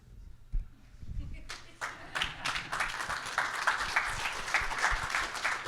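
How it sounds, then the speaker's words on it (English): Audience applause for the speakers at a grassland restoration talk, building from scattered claps into steady clapping across a room, with a few voices audible underneath. "one more round of applause for all the speakers except that first guy"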